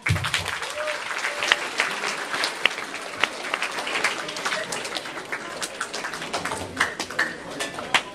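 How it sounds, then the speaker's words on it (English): Students at a school assembly give a sustained round of applause, a dense and fairly loud patter of many hands with scattered sharper claps, steady throughout. "I want you guys to give yourselves a round of applause"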